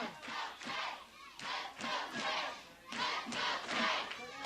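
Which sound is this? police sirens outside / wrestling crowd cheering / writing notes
wrestling crowd cheering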